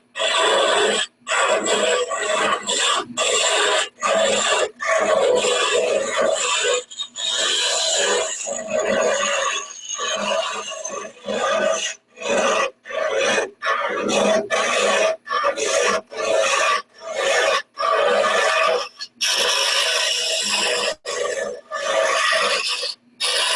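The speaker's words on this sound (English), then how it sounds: "I'm using a Hunter cutter for hollowing" A Hunter hollowing cutter scrapes and rasps against a small wooden birdhouse ornament spinning on a lathe, in short repeated bursts with brief pauses between cuts.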